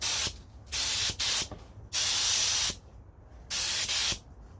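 An airbrush sprays gold tint over Alclad chrome paint, giving four bursts of close, loud hiss separated by short pauses.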